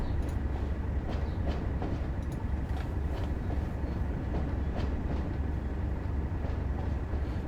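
Train rolling steadily along rails in a train simulator game, a continuous low rumble with faint rhythmic wheel clicks, no voices.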